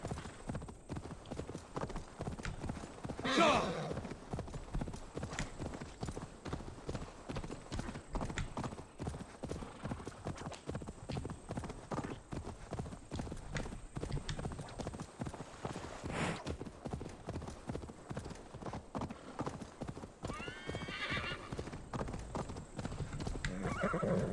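A horse in Assassin's Creed Valhalla gallops with rapid, steady hoofbeats throughout and lets out a loud whinny early on, with faint further horse noises later.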